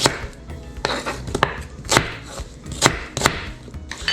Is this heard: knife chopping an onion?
yes